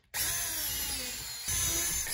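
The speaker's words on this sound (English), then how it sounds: "I mark the legs out, then pre-drill," Power drill pre-drilling holes in square white wooden table legs, a loud steady high whine starting abruptly and running for about two seconds, rising slightly near the end, close with no talk.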